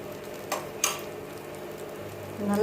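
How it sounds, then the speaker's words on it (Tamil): Millet paniyaram batter frying in ghee, a continuous soft sizzle with a couple of sharp metallic clinks of a utensil against the pan and a brief louder hiss near the end. "நல்லா நெய் ஊற்றி மொறுன்னு சுட்டுக்கலாம்."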